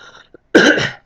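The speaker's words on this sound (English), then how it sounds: "Sorry, I'm still coughing a little bit." A single harsh cough, close and loud, after a brief faint breath.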